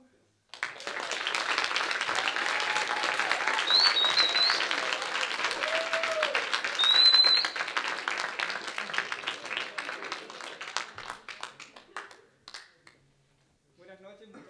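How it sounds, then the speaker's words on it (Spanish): A large audience applauds steadily to welcome a speaker at an evening gathering, a dense wash of clapping lasting about eleven seconds before tapering off and stopping, with faint voices underneath. "I don't think I've received this much applause since my graduation from dental school."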